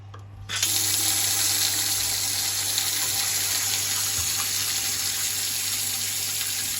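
Water gushes steadily from a tap after a sudden start, a loud, even rushing stream with a low hum underneath.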